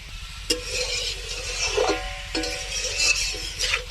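Cauliflower and potatoes go into hot spiced oil for a cauliflower biryani, setting off a steady sizzle with scraping stirs and a few light metallic clinks of the spoon against the pan.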